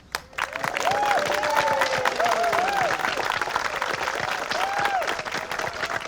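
Spectators applaud the artists at an outdoor landscape painting competition in Yorkshire, giving dense, sustained clapping with some cheering, while a voice talks over it and wind is audible.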